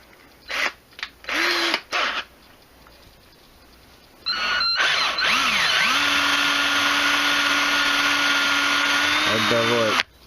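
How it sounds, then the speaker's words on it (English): A power drill whines steadily for several seconds, close and loud, drilling a hole in a Thermacell butane cartridge, after a few short bursts of sound at the start. "Okay, so we want to drill a hole."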